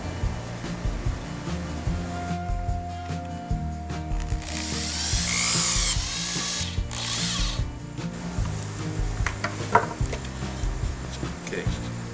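Screws being turned back into their holes on a drill-powered drum sander build give a series of short ratcheting clicks and scraping turns, close and fairly loud, with a longer grinding burst in the middle.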